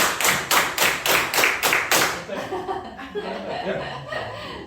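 A group at a business training session claps in unison, eight loud rhythmic claps in a row, then breaks into chuckles and scattered laughter with some voices.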